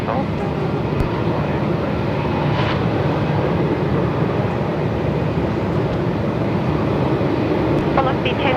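A Qantas Airbus A330 lined up on the runway at Melbourne Airport in 45-knot winds, a continuous loud engine roar mixed with wind rumble, with radio chatter faintly underneath.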